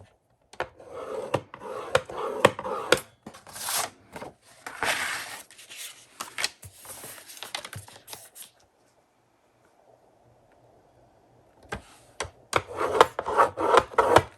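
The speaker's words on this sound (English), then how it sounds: "All right, so I'm going to go through and score all of these." Paper being scored along fold lines with a Cricut scoring tool while a folio is made, repeated close rasping strokes in bursts, a quiet pause with low hum, then more rapid scraping passes.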